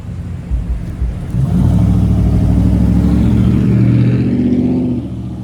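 Car passing on a busy road, a loud close engine drone that swells in, holds steady with a rising hum, then eases off as it goes by.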